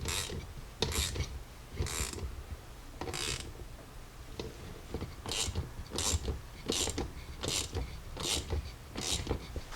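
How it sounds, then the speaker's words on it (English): A ratchet wrench clicks in repeated bursts while tightening 1/4 inch bolts on cooler brackets for a 1978 Jeep J10, the close, sharp ratcheting strokes coming in an irregular rhythm with brief pauses between bursts. "So I just got some 1/4 inch hardware, and that's what we're going to use to bolt this all together."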